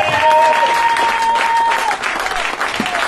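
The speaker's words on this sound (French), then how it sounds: "acclamons Jésus pour ce jour." A church congregation claps together in a loud, continuous burst of applause that holds steady throughout, with a held sung or voiced tone running beneath it.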